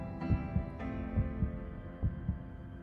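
Regular heartbeat thumps, about eight soft low beats in a steady rhythm over a faint hum, used as a sound effect for a Korean broadcast, with no talking.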